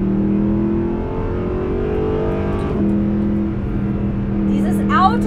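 A Mercedes SLS Black Series sports car engine on a race track holds a steady loud drone with a rising, accelerating pitch, with a brief sharper rev near the end.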